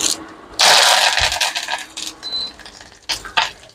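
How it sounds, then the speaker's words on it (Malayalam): Mustard seeds sputtering and popping in hot oil for curry, a loud crackling burst followed by scattered sharp pops, close up. "നമുക്ക് അതിലേക്ക് കുറച്ച് കടുക് ഇടാം."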